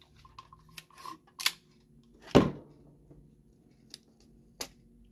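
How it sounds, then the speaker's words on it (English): Heat tape cut and pressed down to hold a sublimation print on a small luggage cover, a few sharp snips and taps with one louder tearing burst in the middle, close and quiet with no talking. "I am going to get some heat tape here"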